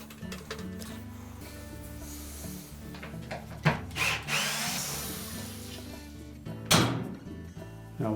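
A power driver whirs in short bursts, taking the number 25 Torx screws out of the inner tub hub on a GE washer, with clicks and handling noises between the runs of the motor.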